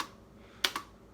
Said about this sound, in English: watch as I hit the spacebar on my keyboard